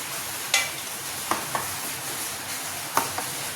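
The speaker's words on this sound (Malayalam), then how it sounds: "നല്ലതുപോലെ ഒന്ന് ഇളക്കി കൊടുക്കാം." Spoon stirring a thick batter of ripe banana, wheat flour, jaggery syrup and a pinch of salt, with a few sharp clicks against the bowl over a steady soft hiss, close and without talk.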